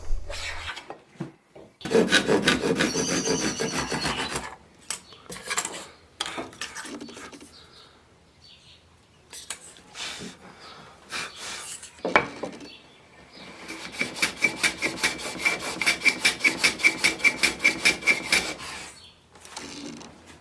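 Block plane taking thin shavings off a wood veneer strip for marquetry, heard as bursts of rasping, rubbing strokes with pauses between, the last stretch a fast run of short rhythmic strokes, close and moderately loud.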